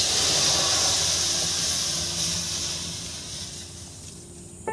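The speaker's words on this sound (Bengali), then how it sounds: "কড়ার মধ্যে এবার দিচ্ছি জল।" Water hits a hot kadai of masala for vegetarian ghugni and sets off a loud, close steam hiss that gradually fades over a few seconds.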